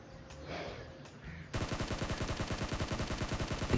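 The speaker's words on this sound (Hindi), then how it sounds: "इस वाले भाई पे सकारल की पूरी गोलियां उतारने के बाद अब मैं जाऊंगा दूसरे पे रश करने।" Rapid automatic gunfire from a SCAR-L rifle in PUBG Mobile bursts in after a quieter start, a fast, even rattle of close, loud shots lasting a couple of seconds.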